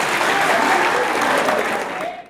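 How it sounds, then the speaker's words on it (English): Observers in a packed Haitian courtroom cheering and applauding as if at a soccer game, producing a loud, dense, continuous wash of clapping and crowd noise that fades at the end. "Observers cheer as though at a soccer game."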